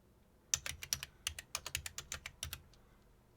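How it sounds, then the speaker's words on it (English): Keys clatter on a computer keyboard as a web address is typed into a browser, a quick run of close, crisp clicks with brief pauses and no talk. "what you want to do is you want to type in HTTPS"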